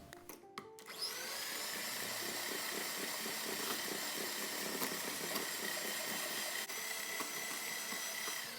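An electric mixer beats eggs into brownie batter in a bowl, a loud, steady whirring motor drone that starts after a second and runs on without pause, with no voices.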